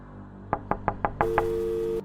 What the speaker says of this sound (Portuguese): A funcionária bate várias vezes.